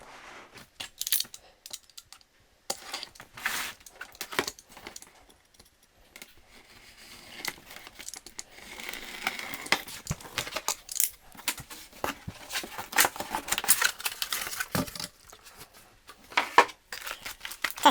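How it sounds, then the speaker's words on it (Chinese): A Metabo AS18LPC 18V cordless vacuum cleaner is unboxed, with irregular crinkling, rustling and tapping of cardboard and plastic packaging, close by, in scattered bursts separated by quiet gaps. "我再继续拆箱把它拿出来吧"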